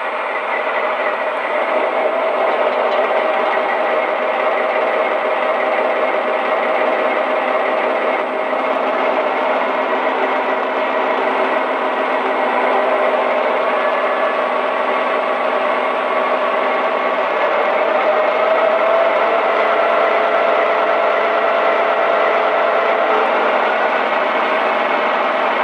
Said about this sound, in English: here's a sampling of the RPM levels.